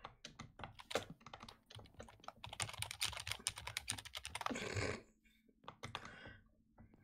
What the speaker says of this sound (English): I hope you could hear my aggressive typing just now